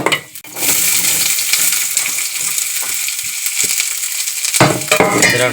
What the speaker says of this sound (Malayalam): ചീനച്ചട്ടി വെച്ച് അതിൽ ആവശ്യത്തിനുള്ള വെളിച്ചെണ്ണ വീട്ടി അതിലേക്ക് നമ്മൾ കടുക് ഇട്ട് കൊടുത്തിട്ടുണ്ട്.